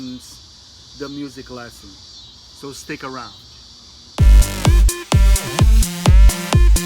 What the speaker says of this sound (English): Maybe you can hear the birds and the cicadas in the background.